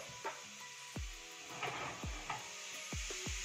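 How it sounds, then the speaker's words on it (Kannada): Sliced carrots fry in two to three spoons of oil in a pan for carrot rice, giving a soft steady sizzle broken by several dull knocks of stirring against the pan. "ಫ್ರೈ ಮಾಡಕ್ ಸ್ಟಾರ್ಟ್ ಮಾಡಿ"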